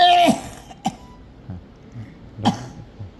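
A hospital patient coughs while a nasogastric tube is being inserted: a strong cough at the start, then shorter coughs near one second and two and a half seconds, with faint throat sounds between, close and without talk.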